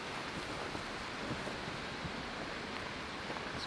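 Steady rain falls across a World War One battlefield near Ypres, a dense, even hiss of drops with faint patter and a little wind, continuous and unbroken, no voices.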